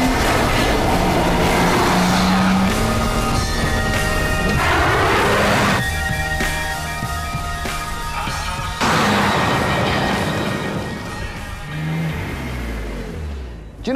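A BMW Z4 roadster being driven, its engine note loud and continuous with rising and falling revs, shifting pitch as it accelerates and passes, with a brief lull midway before it surges again.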